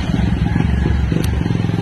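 A motorcycle engine rumbles steadily nearby on a street toward South Bay, a continuous low buzzing drone with light clatter and wind noise throughout.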